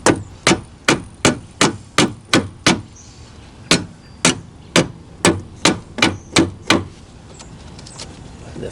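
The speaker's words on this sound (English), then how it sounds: "I need my small hammer now." A small hammer taps steel parts during a fuel pump replacement on a 2017 Dodge Durango GT AWD 3.6L, a run of seven sharp metallic strikes, a short pause, then seven more, loud and close, with no talk.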